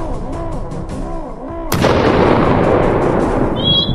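A firecracker bomb goes off with one sudden, loud, close blast, followed by a rumbling, noisy decay; a voice talks just before the explosion.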